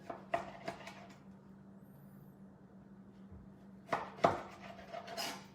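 A knife cuts through a rack of root beer pork ribs on a cutting board, giving a few soft thuds near the start and another cluster a few seconds later, with quiet in between.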